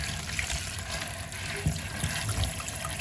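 Running water splashes steadily over salted croaker fish as it is rinsed clean, a continuous close trickle and wash with small splashes throughout.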